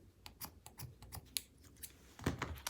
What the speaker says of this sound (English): Need my fabric scissors.